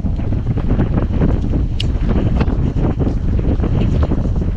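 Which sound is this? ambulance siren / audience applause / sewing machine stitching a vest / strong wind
strong wind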